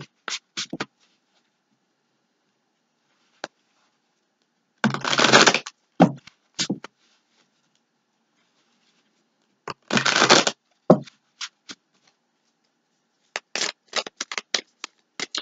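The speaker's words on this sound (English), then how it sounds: "I'm going to give these a shuffle just because so many cards flew" Tarot cards being shuffled by hand in short bursts of riffling and rapid snapping, with quieter taps and card handling in between, close and dry with no voices.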